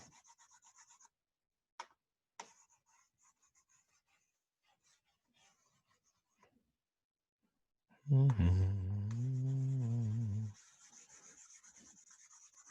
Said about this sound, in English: that's why we have an eraser